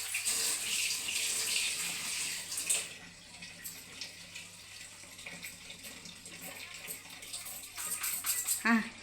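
Water runs steadily from a household tap, a continuous rushing hiss that fades somewhat midway and then swells again, with a person's voice speaking briefly over it.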